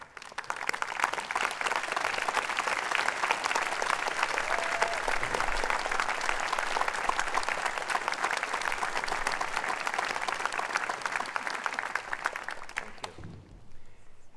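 A large audience at a university graduation ceremony applauds faculty in a long, steady wash of clapping that holds at an even level for about thirteen seconds before stopping abruptly.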